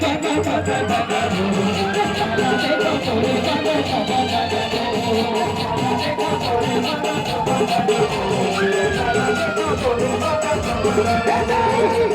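Audience at a jhanki tableau competition in 2024 clapping and cheering, a steady dense crowd noise with whoops and scattered voices rising over it, loud and continuous throughout.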